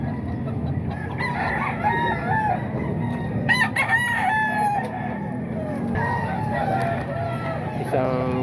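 Roosters crowing repeatedly at a poultry market in Calumit, over a busy background of clucking hens, one crow near and loud, others fainter in the distance.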